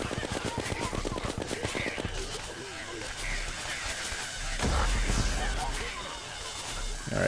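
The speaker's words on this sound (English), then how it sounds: "Try to get him at a distance with the Uzi." Rapid automatic Uzi fire in the video game Terraria, a fast rattling burst of repeated shots at the start followed by scattered booms and game effects, with someone talking over it.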